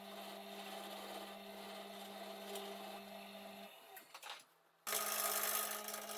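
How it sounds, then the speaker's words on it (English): A wood lathe turns a tenon on a brittle resin piece in a cold shed, a steady close motor hum with a constant drone that cuts out, then a louder bright scraping of the tool on the spinning work. "Now the piece is in the lathe, let's get turning."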